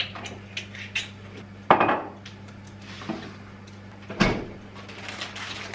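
Dishes and cutlery clatter during kitchen cleanup, light clinks and scrapes scattered throughout with two louder clanks standing out, nearby and without speech.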